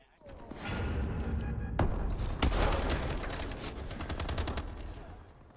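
Rapid-fire and laser weapons go off in a shooter video game, a loud dense stream of shots and electronic blasts sustained for several seconds, with a voice talking over it.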